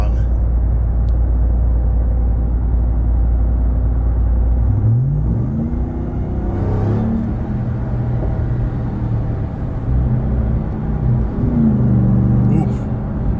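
A Ram TRX pickup rumbles along the road from inside the cab, its deep engine drone steady and loud, rising in pitch as it accelerates around the middle and again near the end, with a faint voice briefly underneath.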